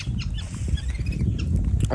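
Several whistling ducks (Bengali 'bali hans', lesser whistling ducks) kept with clipped wings call continuously and close by, a busy overlapping chorus of short calls against steady background noise.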